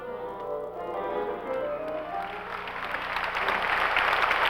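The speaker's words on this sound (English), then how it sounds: "The applause was enthusiastic at intermission after the Stravinsky" Enthusiastic audience applause at an afternoon concert's intermission after a Stravinsky performance, a dense, steady wash of clapping that swells louder toward the end, heard alone.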